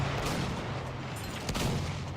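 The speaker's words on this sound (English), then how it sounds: "here's an artillery truck" An artillery truck firing in a landship battle video game, heard as a low, steady rumble of distant heavy fire with a couple of faint blasts, fairly quiet overall.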